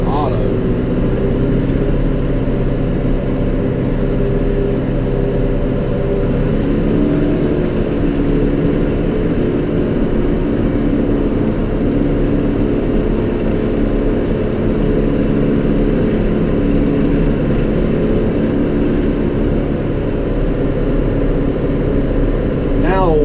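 A John Deere 5R tractor engine runs steadily throughout at a loud, constant idle-to-working rumble with no clear revving or pauses.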